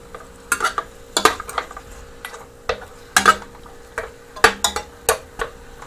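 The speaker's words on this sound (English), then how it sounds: "So now it's finished fry and now adding in the beef." Beef stir-fries with potatoes in a pan: irregular spatula clanks and scrapes come in bursts over a low, steady sizzle, with no voices.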